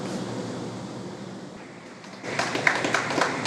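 Applause and cheering break out in NASA Mission Control after the SpaceX crew capsule splashes down, starting faint and swelling into a louder crowd ovation for the last second or so.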